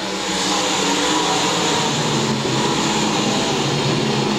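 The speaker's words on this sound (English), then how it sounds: "engines roar" Race car engines roar together at the start of a race at Lakeside Speedway, a loud, steady, dense drone that fills the whole span without letup.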